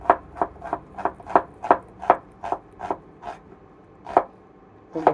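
A knife chops onions on a board in a steady rhythm of about a dozen sharp, close strikes, with a short pause before the last few cuts.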